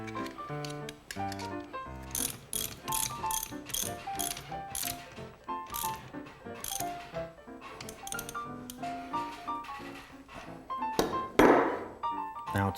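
A ratchet loosens and tightens bolts on a Lotus differential, with rapid, close clicking in repeated bursts and occasional metallic clunks. The setting sounds like a workshop, and nobody speaks.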